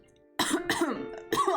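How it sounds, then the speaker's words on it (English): A person coughs in three harsh bursts after swallowing air wrong, close and loud, with a short pause between the second and third, no talk over it. "Oh, I'm coughing."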